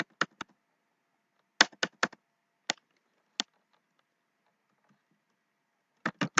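Typing on a computer keyboard comes in short clusters of close, crisp key clicks, separated by long silent pauses.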